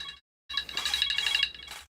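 Electronic mobile phone ringtone playing in a burst of about a second and a half with bright repeating tones, cut by short gaps of silence at both ends.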